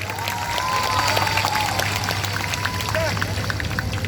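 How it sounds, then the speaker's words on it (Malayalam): A concert audience at a Malayalam ganamela music show claps together in a steady, busy patter. A voice speaks over the applause, and crowd murmur sits underneath. "എല്ലാവരും കൂടെ പടക്കം പൊട്ടുന്ന ഒരു കൈയടി കേൾക്കട്ടെ"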